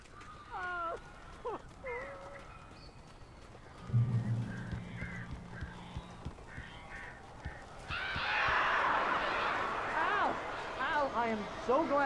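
Crows caw in the video game Alan Wake, with several harsh calls scattered between stretches of speech. Near the end a burst of flapping and rushing noise rises, with more caws over it.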